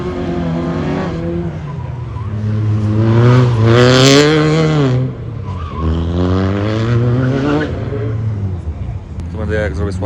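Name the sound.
rally car driving past on a stage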